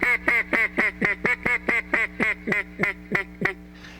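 A duck call imitates a bunch of ducks on the water with a fast, evenly paced run of about a dozen loud nasal quacks, close up and alone, ending in a soft breathy tail.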